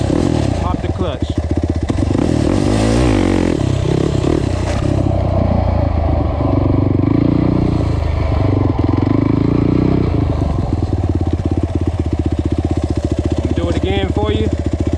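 A quad ATV engine revs loudly and continuously as the throttle is opened and the clutch popped for a wheelie, with rough, rattling motor drone up close.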